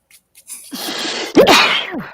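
A single sharp sneeze bursts out midway, preceded by a short inhaling buildup and followed by a trailing breathy tail, close and loud.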